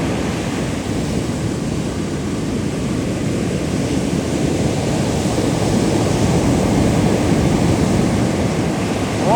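Sea waves washing onto a shore make a steady, continuous roar of broadband surf noise with no breaks, heard alone without voices.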